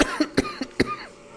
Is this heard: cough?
yes